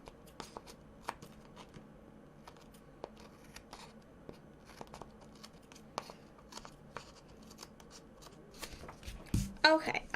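Scissors trim washi overlay paper for a planner spread, a series of soft close snips and paper rustles, with a louder crinkling burst near the end under a quiet background.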